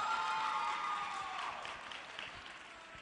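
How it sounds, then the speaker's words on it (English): Audience applause with some crowd noise at a Miss Black US Ambassador 2017 pageant crowning, a steady wash of clapping that slowly fades over a few seconds. "well, give them a round of applause."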